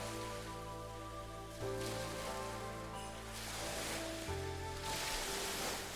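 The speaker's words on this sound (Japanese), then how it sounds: "本物の海が横にあるので波の音が聞こえていい感じです" Steady ocean surf washing beside a seaside island in Animal Crossing: New Horizons, a continuous soft rush of waves mixed with tonal game music, fairly quiet and even throughout.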